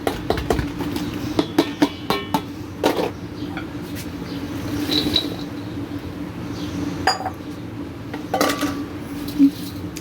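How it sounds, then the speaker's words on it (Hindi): Fruit being mixed with sugar and lemon juice in a bowl, heard as close clinks and scrapes of a spoon against the dish in irregular bursts, with quieter stretches between. "शुगर और लेमन जूस अब हम ऐड करेंगे इसमें और इसको अच्छी तरह मिक्स करेंगे"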